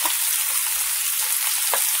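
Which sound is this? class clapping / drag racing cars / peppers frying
peppers frying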